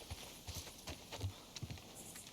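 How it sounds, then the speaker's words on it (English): Horse hooves clip-clop in an uneven walking rhythm on a ranch in The Last of Us Part II Remastered, moderately close and fairly quiet with no talk over them. "Hold on. There's the horse."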